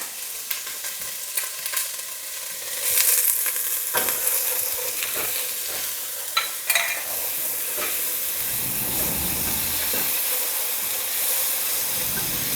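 Onions, garlic and salt frying for chili, a loud steady sizzle and hiss with scattered scrapes and knocks as a spoon stirs the pan, close by and with no talking.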